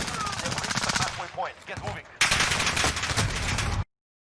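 Rapid automatic gunfire from Call of Duty: Modern Warfare multiplayer, dense bursts of shots with a short lull and scattered sounds in between, then a loud sustained burst that stops abruptly.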